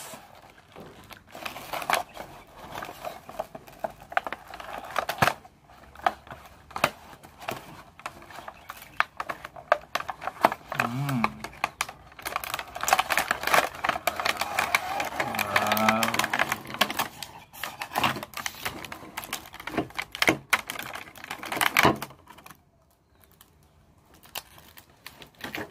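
A sports camera gift box gets unboxed up close, with cardboard scraping, tearing and plastic crinkling in irregular bursts. A voice talks briefly in the middle, and the handling stops near the end.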